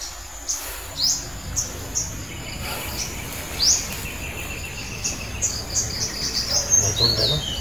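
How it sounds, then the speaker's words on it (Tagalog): Wild birds chirping in short, scattered high calls over a steady background of insects and crickets outdoors, fairly close and clear. "Huni ng ibon yan, Commander."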